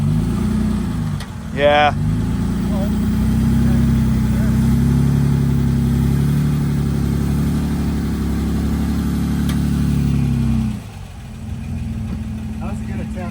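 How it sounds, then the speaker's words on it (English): Off-road vehicle engine on a sand trail, loud and close, holding a steady labouring drone with a brief rev near the start before cutting off sharply near the end; a voice speaks briefly over it. "Your motor doesn't like it."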